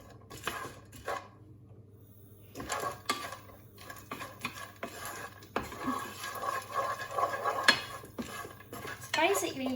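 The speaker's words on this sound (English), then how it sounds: "Give that a stir." Peas, ginger, garlic, chilli powder and onions are stirred in a pan for vegetable fried rice, with intermittent scraping and clinking of a utensil against the pan over a steady low hum, quiet at first and busier later.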